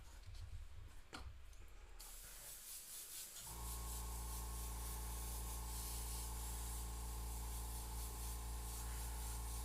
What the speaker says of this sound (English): So I'm just going to spray a little in here